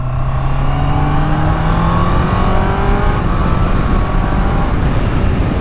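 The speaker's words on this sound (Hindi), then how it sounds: "without pressing the clutch I can shift the gear" Honda CBR 650R E-Clutch motorcycle riding at speed, a loud continuous engine drone with rising pitch sweeps as gears shift up, under heavy wind rush, no talk.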